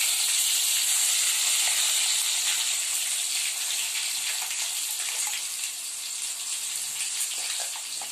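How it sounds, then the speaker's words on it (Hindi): Tomato puree frying in hot oil with cumin and curry leaves for a spicy dum aloo potato curry, giving a steady, loud broadband hiss and sizzle that holds across the whole stretch with no speech over it. "देखिए अभी हमारी ये प्यूरी है वो तेल में अच्छी तरह से फ्राई हो रही है"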